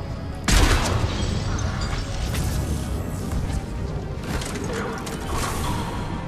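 Gunfire and impacts in the sci-fi shooter Mass Effect 3, opening with a loud crash-like blast, then a dense, continuous stream of shots and explosions throughout a busy combat mix, with no talk.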